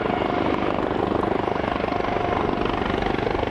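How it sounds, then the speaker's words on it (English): Rescue helicopter flying over Hurricane Floyd floodwaters, a steady loud rotor thrum with a dense whooshing roar, constant and near throughout. "We're landing helicopters out here on the highway."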